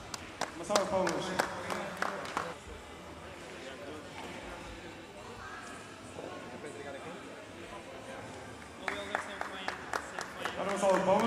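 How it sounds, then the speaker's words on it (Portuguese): Applause from a crowd at a Portuguese pool tournament prize ceremony, with bursts of clapping at the start and end and a spoken announcement over the quieter middle. "Uma salva de palmas."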